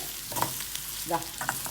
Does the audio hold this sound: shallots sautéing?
yes